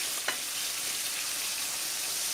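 Tomato paste sautés in a pan over medium heat, a steady broadband sizzle with one short scrape of stirring near the start.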